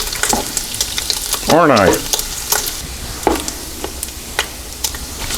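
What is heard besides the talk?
bacon added to eggs sizzling in Cosori multi cooker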